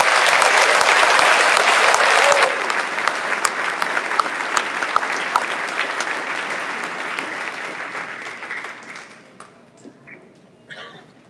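A graduation audience claps for its honorees, dense loud applause from a large crowd that is strongest at first, eases after a couple of seconds and gradually thins out into a few scattered claps.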